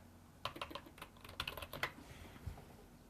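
Quick bursts of typing on a computer keyboard, a few irregular clusters of soft, close key clicks over about two seconds, then quiet, with no speech.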